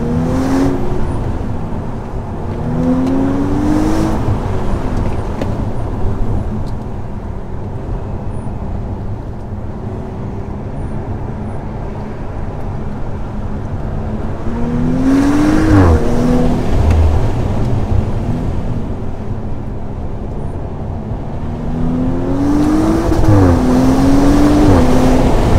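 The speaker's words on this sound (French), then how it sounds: "Écouter un peu le son de ce V6 qui chante bien grâce au magicien" Audi RS5-R tuned by ABT with a V6 engine producing a loud continuous engine drone while driving, rising in pitch during revs around the middle and near the end, with no talking.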